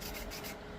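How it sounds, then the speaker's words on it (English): A wooden fishing lure being sanded by hand to smooth out high spots and imperfections, giving a close, steady abrasive rubbing that runs continuously and then eases slightly near the end. "this sanding ensures the lure is smooth"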